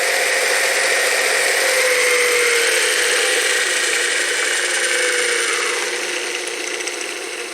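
Craftex CX803 wood lathe running steadily with a loud, continuous motor and belt whine as its speed is shifted with a lever, the tone sliding and easing slightly near the end.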